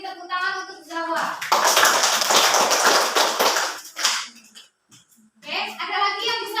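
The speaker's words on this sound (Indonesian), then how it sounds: "beri tepuk tangan untuk jawab" Schoolchildren in an Indonesian classroom clap for a student's answer, a burst of loud, fast clapping from many hands lasting a few seconds, with children's and a teacher's voices before and after.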